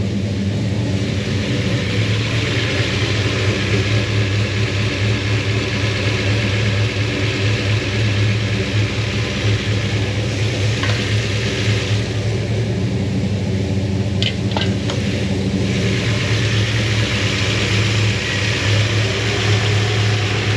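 A rebuilt Chevy big block 402 V8 idles in a 1972 Chevrolet Suburban with a loud, constant low rumble that stays steady throughout, heard close with no speech.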